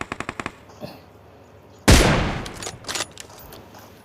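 Gunfire in PUBG Mobile: a rapid burst of about six shots, then a single loud, close blast with a ringing tail and scattered softer pops after it.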